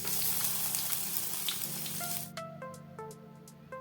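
Chopped onions and slit green chillies sizzling in mustard oil, a loud continuous hiss that drops away midway, followed by a few light clinks and scrapes of gentle stirring.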